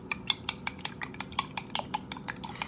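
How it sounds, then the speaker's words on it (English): Chopsticks whisk eggs in a bowl for a bacon, egg and cheese sandwich, making quick, rhythmic clicking taps close by with no talking. "And then you're going to whisk."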